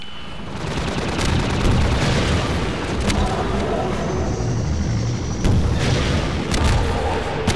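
Enemy gunfire in the video game Half-Life 2: repeated sharp shots and booming blasts crack over a loud, continuous rumble, fairly close and dense, with no speech.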